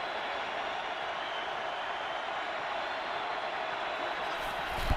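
NFL stadium crowd roaring on a third-and-one, Rams against Cardinals in December 2018, a dense sustained roar of distant cheering that swells slightly at the end.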